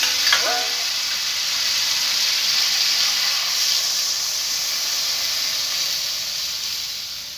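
A brief splash as water hits a hot pan, followed by a loud, sustained hissing sizzle that slowly fades.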